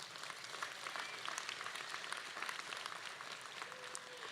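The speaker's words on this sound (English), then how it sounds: "Let's give everyone a round of applause." Graduation audience at a San Diego community college commencement claps together in sustained, even applause that sounds distant and fairly faint, holding steady throughout without a pause.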